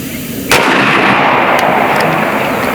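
Single powerful report from an AEA Zeus .72 caliber pellet gun with a 16-inch barrel: a sharp, loud crack followed by a long, rushing wash of noise that slowly fades.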